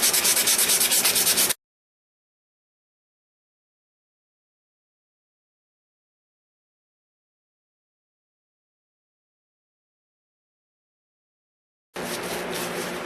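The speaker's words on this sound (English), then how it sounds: "Just sit here and shape and sand and sand and sand." A G10 knife handle scale is rubbed by hand with sandpaper in short raspy bursts at the start and end, separated by a long silence.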